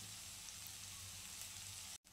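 A potato dish cooking in a pan, with a steady, quiet sizzle and faint frying crackle that continues evenly before a brief break.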